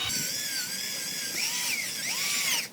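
A high-pitched whining cordless drill runs steadily, its pitch rising and dipping as the motor speeds up and slows, close and loud.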